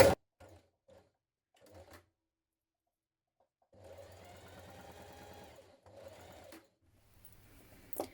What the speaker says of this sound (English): And then stitch it close to the edge of the raw edge there.